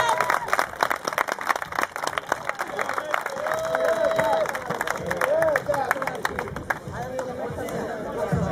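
Crowd at a Hungarian family-day youth football award ceremony clapping for under-7 children receiving medals, a steady burst of applause with cheering voices and chatter mixed in throughout.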